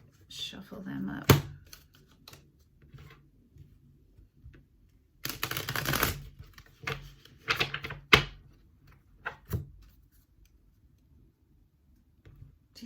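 Tarot reading cards are shuffled in scattered bursts of riffling and rustling, with sharp slaps and flutters separated by quiet gaps, close to the listener.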